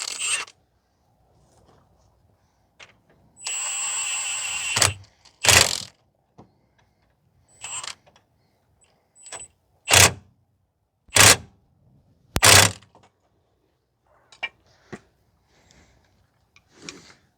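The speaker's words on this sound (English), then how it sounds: "Here's the impact now to run the bolts through." Impact wrench running bolts through a 2006 Mazda 3 2.0 engine mount: a sustained buzzing burst followed by several short, loud rattling bursts spaced a second or so apart, with faint clicks between in an otherwise quiet space.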